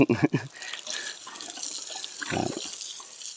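Water sprayed from a hose onto a baby elephant, a close, steady hiss of running water with louder splashing bursts at the start and again near the end. A voice sounds briefly.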